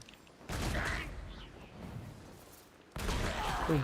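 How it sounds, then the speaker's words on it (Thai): Bombs blast in a Genshin Impact minigame, two loud broadband explosions with a sudden onset, one near the start and another near the end, each trailing into a rumbling decay, with bright game chimes mixed in. "มินิเกมตลกดีนะครับทิ้งระเบิด"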